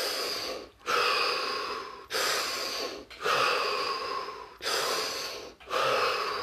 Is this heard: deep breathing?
yes